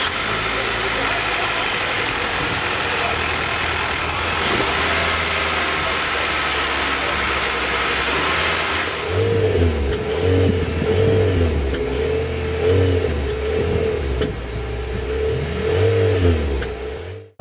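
A 2022 Nissan Altima's 2.5-liter four-cylinder engine idles smoothly, then is revved several times in quick blips that rise and fall, heard close from outside the car.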